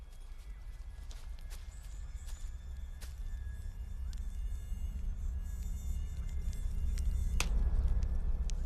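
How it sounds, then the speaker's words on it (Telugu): Mosquitoes whine in a thin, continuous high buzz, faint against a low rumbling background, with occasional soft clicks and a louder knock near the end. "ఇక్కడ దోమలు పిచ్చి లేపుతాయి."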